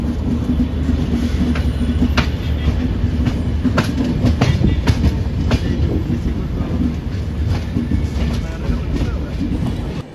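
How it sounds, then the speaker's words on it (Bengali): The Vivek Express runs on after leaving Coimbatore Junction, its wheels clattering in a continuous rhythmic clickety-clack heard from inside the train, with occasional sharper clicks over the tracks. "ছেড়ে দিল আমাদের ট্রেনটি কোয়েম্বাটোর জংশন রেলওয়ে স্টেশন থেকে"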